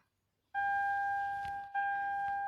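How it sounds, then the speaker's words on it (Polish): A car alarm blares a loud, steady two-tone electronic beep, starting abruptly and continuing with a brief dip partway through, near and alone in a quiet setting. "Ale ty ma alarm głośny."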